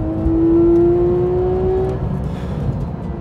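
A Porsche GT3 sports car's engine revs hard on a race circuit, one rising high-pitched wail that climbs for about two seconds, then drops off into a rougher, fading mechanical rumble, loud and close.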